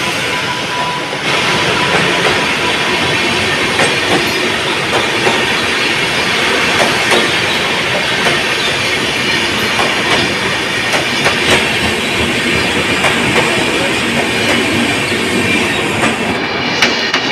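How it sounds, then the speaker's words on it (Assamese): A train rolls into a railway platform in Gujarat with a loud, steady rumble. Rhythmic wheel clicks and some hiss and squeal run throughout, close and unbroken, with no voices. "এইফালে ট্ৰেইন আহি আছে এখন"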